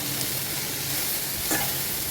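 Spring onion stalks and chilli sautéing in a pan for a thoron, giving a steady close sizzle with a couple of brief stirring scrapes and no talking.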